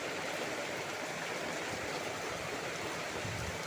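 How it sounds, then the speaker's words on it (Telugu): Rainwater rushes along a road in a steady broadband wash after heavy rain, continuous and even with no voices. "రోడ్డు మీద బాగా వెళ్తున్నాయి నీళ్ళు."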